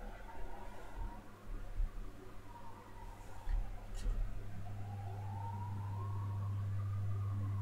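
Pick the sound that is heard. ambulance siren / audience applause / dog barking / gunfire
ambulance siren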